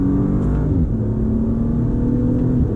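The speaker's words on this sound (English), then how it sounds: "you can hear that engine a little bit" A 2022 Maserati Levante GT engine drones steadily from inside the cabin with a low, sustained hum, its pitch dipping briefly as a gear changes early on and then holding even.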